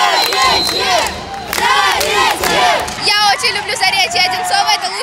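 Zarechye Odintsovo volleyball fans cheer and chant rhythmically in a packed arena during a match against Yenisei, a loud, dense crowd roar with shouted voices rising and falling.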